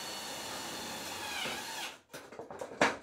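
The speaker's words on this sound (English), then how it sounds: "then drive in two more screws" A power drill drives screws into a wooden stud while building LED workshop lighting, with a steady whirring run for about two seconds, then short bursts and clicks close by.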